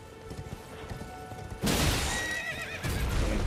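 A horse neighs loudly in Elden Ring, a shrill whinny rising and falling, followed by a second neigh amid clattering game sounds.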